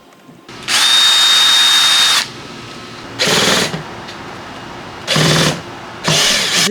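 A power drill works on screws in the door of a 1980 Corvette. It makes four loud whirring bursts of one to two seconds each, separated by short pauses.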